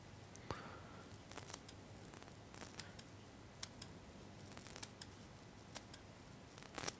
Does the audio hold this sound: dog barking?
no